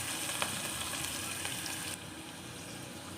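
Dried red chillies and garlic frying in hot oil in a pan, giving a steady, fairly loud sizzle that continues without a break and drops slightly in level partway through.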